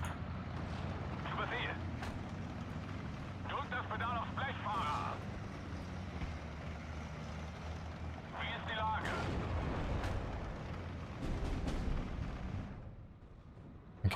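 Mortar and artillery explosions in the WWII strategy game Steel Division: Normandy 44, booming repeatedly over a dense battle rumble, with a voice talking over the noise throughout.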